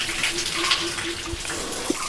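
Water poured out of a small water bottle beside a spring-fed forest temple, a continuous close splashing gush running steadily throughout without any talk.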